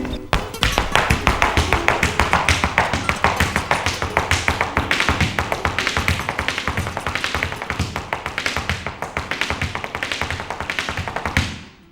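Rapid flamenco footwork taps out a latigo step, a dense run of sharp, close heel-and-toe strikes in a steady driving rhythm that continues for the whole passage with no talk.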